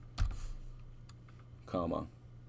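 Fingers type numbers on a computer keyboard in a drafting program, faint scattered key clicks at low volume, with a voice speaking briefly near the end.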